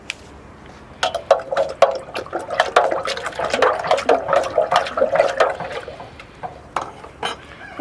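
Water sloshes and splashes in a watering can as 20-20-20 fertilizer is stirred in for bonsai care, with irregular bursts of liquid churning and faint clinks after a quiet start.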